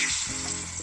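Plantain slices frying in a batch of hot oil, a steady close sizzle with a dense crackling hiss that runs continuously for the whole short stretch.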